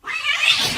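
A cat lets out a short, loud, strained yowl right after a dog knocks it off onto the floor, heard close and alone.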